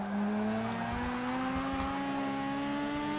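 Race cars in the Forza Motorsport 6 video game drive at speed, a steady near engine whine rising slowly in pitch as the car accelerates, with a faint rumble beneath and no talk.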